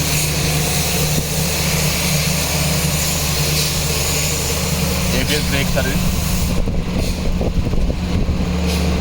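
A 2021 Maruti WagonR VXI petrol engine runs with a steady, close low hum, while someone talks over it throughout.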